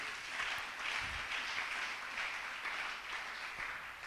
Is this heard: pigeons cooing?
no